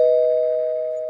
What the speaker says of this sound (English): Then the doorbell rang.